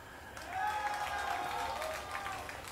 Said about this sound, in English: like 30 people clapping for Polt